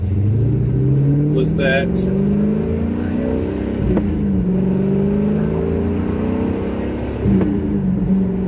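A car rolls along at about 20 mph on new tires, its engine and road noise a steady low hum throughout, with someone talking over it and brief clicks near the start.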